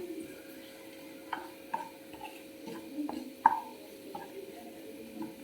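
Beetroot pickle being stirred after chili and fenugreek powder go in, soft scraping with a few distinct spoon taps against the pan over a quiet background hum.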